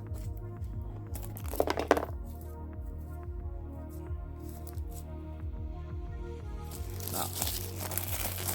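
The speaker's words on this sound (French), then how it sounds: "Donc je vais déballer." Plastic wrap and packaging crinkle and crumple as a Wolf Creek 4K collector box set is unboxed, close and fairly quiet, in short bursts of rustling with a brief spoken word.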